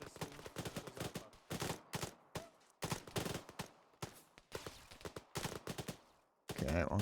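Gunfire crackles in Antistasi as bursts of rifle and machine-gun shots ring out in rapid, uneven clusters, moderately distant, with brief pauses between volleys.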